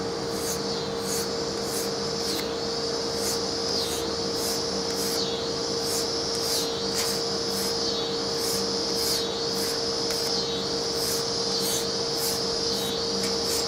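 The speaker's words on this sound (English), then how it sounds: "It is important to strop a couple times. I don't know, 10's probably good per side. At least for the leather belt." A kitchen knife stropped on a leather belt, giving repeated rhythmic rubbing strokes about once a second over a steady background hum, close and fairly quiet.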